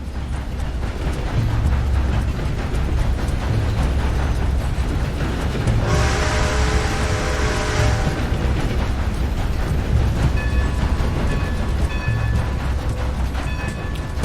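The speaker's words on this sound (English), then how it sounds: "Time to start this train again." Steam train in Red Dead Redemption II, a constant loud rumbling roll of the locomotive and cars with a brief burst of hissing steam partway through and a faint whistle-like tone later.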